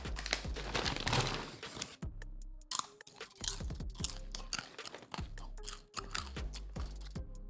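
A crunchy snack is chewed close to the microphone, with loud irregular crunches and bites. Short pauses separate bursts of chomping.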